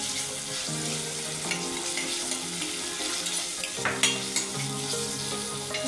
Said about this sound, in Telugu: ఒకసారి ఇలా కలుపుకొని అల్లం వెల్లిపాయ ఫ్రై అయ్యేలాగా.